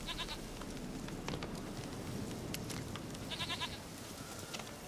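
A goat bleats twice in The Witcher 3, a rapid, quavering call near the start and again later, close and clear over a steady background hum.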